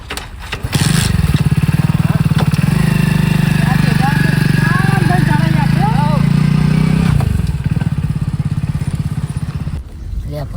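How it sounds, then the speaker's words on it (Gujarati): A motorbike ridden by two men heading out on Uttarayan, the kite festival, its engine giving a steady loud drone for most of the ride before easing off near the end, with people talking and calling out over it. "આખડું બાઈક ચલાવજે ભીખલા"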